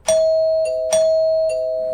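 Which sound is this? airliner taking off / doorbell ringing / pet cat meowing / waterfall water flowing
doorbell ringing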